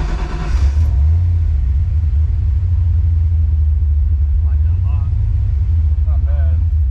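A turbine engine with its cranking fuel turned well down cranks and lights off, giving a steady, heavy low rumble throughout, with brief faint voices partway through.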